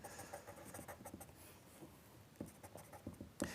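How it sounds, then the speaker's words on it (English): Pastel pencil pressed hard against paper while shading a simple landscape: close, quiet scratchy scribbling in short uneven strokes with brief pauses, no voice. "Really got to press hard just to get the pencil to do anything."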